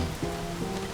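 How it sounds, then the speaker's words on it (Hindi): Heavy rain falls outside as a steady, dense, loud hiss with no pauses across the short stretch. "इतनी बारिश हो रही है, कहाँ जाओगी तुम?"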